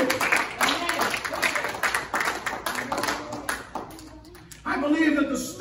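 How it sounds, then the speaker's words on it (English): A congregation at a church service claps hands in quick, steady rhythm while a preacher's loud voice carries on over the clapping. "give a hand clap to the Lord"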